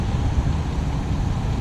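A 2019 Ford F350 dually pickup with the 6.7 Power Stroke diesel idles nearby, a steady low rumbling clatter that stays even and unbroken, heard alone without talk.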